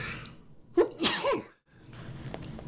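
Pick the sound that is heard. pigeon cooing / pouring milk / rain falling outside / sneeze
sneeze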